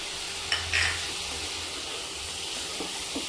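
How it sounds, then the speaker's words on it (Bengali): Chicken pieces frying in a pan for a chicken gravy, stirred now and then, with a steady soft sizzle and a couple of brief scraping stirs near the start, no voices. "কিছুক্ষণ ধরে নাড়াচাড়া করে ভেজে নিতে হবে"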